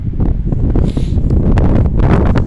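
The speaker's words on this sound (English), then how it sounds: "We're getting in this windy corner, so you ain't going to be able to hear me too well." Steady wind buffets the microphone in a windy corner of an old cemetery with a low, rumbling roar and rustling gusts, continuous and loud, with no one speaking.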